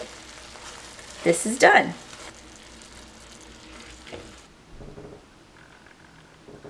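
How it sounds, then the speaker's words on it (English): Frozen green beans hit a hot pan in a sharp, loud burst of sizzling that settles into a quieter, steady crackle of frying, with a person talking briefly. "So I'm gonna add my frozen green beans."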